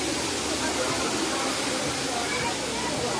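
Pinlac Falls gives off a steady, dense roar of falling water that stays constant and close throughout, with no other distinct sounds.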